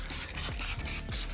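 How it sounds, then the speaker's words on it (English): A hand spray bottle misting rinseless car wash solution onto a car, with several quick trigger pumps in a row, each a short, close hissing burst with faint mechanical clicks. "Go ahead and spray this down a little bit."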